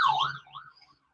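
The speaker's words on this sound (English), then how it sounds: "Yes, we got sirens in the background" Sirens wailing somewhere down the road beyond a quiet roadside spot, a faint rising and falling tone that drifts and fades out within about a second, with no talk over it.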